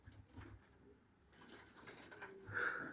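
Pakistani high-flying pigeons coo softly and intermittently, with one louder, clearer call near the end over faint background noise.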